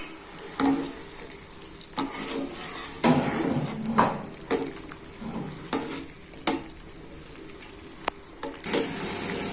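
Green beans in a pot of salted boiling water give a constant bubbling hiss, punctuated by irregular clanks and knocks of a utensil against the pot, close by and without speech.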